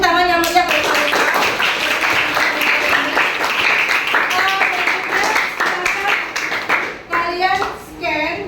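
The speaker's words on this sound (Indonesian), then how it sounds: "kita beri tepuk tangan yang meriah untuk Kalila." A classroom claps for a student, loud, quick-paced hand clapping filling the room, with children's voices and chatter over it, tapering off toward the end.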